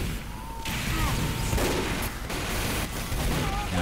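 Gunfire from a multiplayer shooter video game on an Egypt map: dense bursts of rapid shots and crashes fill the short stretch, fairly faint overall, with brief gaps between volleys.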